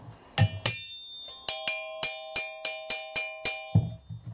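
A freshly cast bronze night cap is struck repeatedly, giving about ten bright, ringing metallic strikes in an uneven rhythm, each decaying with a bell-like tone, close and alone.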